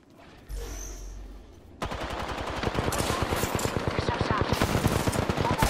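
Rapid automatic gunfire in the shooter video game Apex Legends, a quiet opening then a dense, loud burst of closely spaced shots that keeps going to the end.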